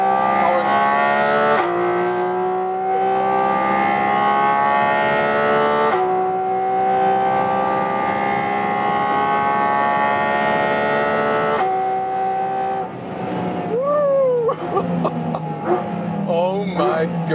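A 2022 Porsche 718 Cayman GT4 RS with a naturally aspirated engine pulls hard through a long curve, its loud rising howl climbing in smooth sweeps through gear changes and settling lower at the end, with a voice talking over it.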